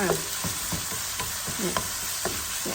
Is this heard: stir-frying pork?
yes